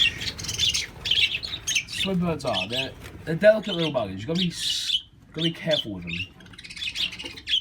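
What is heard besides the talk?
budgies chirping and squawking in their cage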